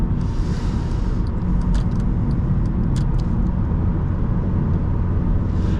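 A steady, loud engine drone and road rumble fill the cabin of an eighth-generation Honda Civic while driving, constant and low, with no talking.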